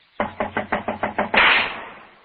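Knuckles rap seven times in quick, even succession on a locked wooden door in an old Sherlock Holmes radio drama, close and crisp. A sudden loud, sharp burst follows and fades out.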